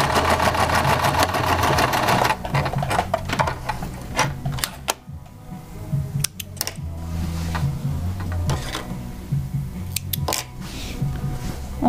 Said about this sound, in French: on refait un aller-retour pour faire un point d'arrêt sur 3 ou 4 points.